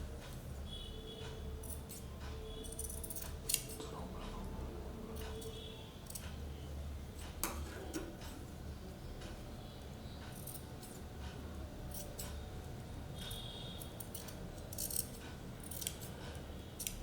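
Scissors snip through blouse fabric in a series of faint, irregular clicks and cuts, spread across a low, steady room hum with no speech.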